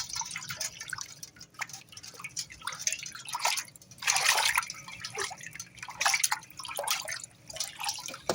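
Leftover fermented rice being squeezed and kneaded by hand in water, giving close, wet squelching and dripping sounds in irregular bursts with short pauses, no voices.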